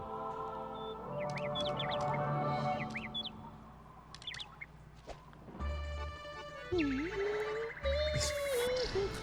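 Bird squawks and chirps from the video game Rayman Raving Rabbids, a run of high warbling calls and tweets rising over soft game background noise, with no talk.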